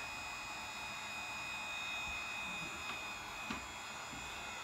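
A hair dryer on low blows steadily over thick acrylic paint on an abstract canvas, a constant airy whir with faint small knocks of handling.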